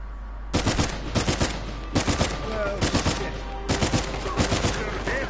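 Uncharted 4 firefight: several loud, close bursts of rapid automatic gunfire, each a quick cluster of shots, separated by short pauses over a low background rumble.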